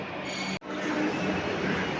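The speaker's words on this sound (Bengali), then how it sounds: "মেট্রো নিউ গড়িয়া স্টেশনে চলে এসছে" A Kolkata Metro train pulls into New Garia station with a steady rolling rumble and a faint high squeal, briefly cut off near the start.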